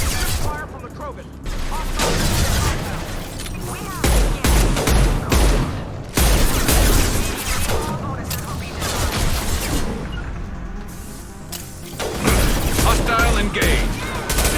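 Krogan gunfire in a Mass Effect video game battle: repeated loud bursts of shots and booms, layered with voices talking and other combat noise throughout.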